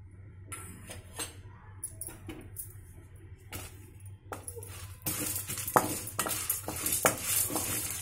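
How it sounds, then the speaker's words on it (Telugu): Coriander seeds, urad dal, chana dal and dried red chillies being dry-roasted slowly in a pan, with scattered clinks and scrapes of a spoon that grow into a denser, louder crackle and rattle near the end. "ధనియాలు మినప్పప్పు జనపప్పు ఎండుమిర్చి కొంచెం స్లోగా వేయి"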